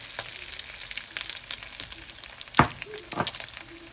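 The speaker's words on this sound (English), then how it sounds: "now I'm gonna add our steak." Steak sizzles and fries as it goes into a hot pan for a steak, potato and vegetable bowl, a steady crackling hiss with a sharper burst partway through as the meat lands.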